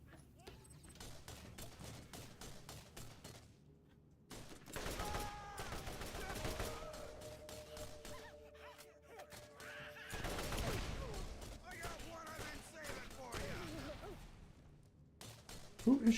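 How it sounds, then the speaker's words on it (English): Bursts of enemy gunfire in the video game Borderlands come in two loud volleys of rapid shots, mixed with other game sounds and brief voices. "Who is shooting at me?"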